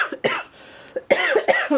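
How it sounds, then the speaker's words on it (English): A series of harsh coughing bursts, several in quick succession after a brief pause, loud and close. "someday this cough is gonna go away"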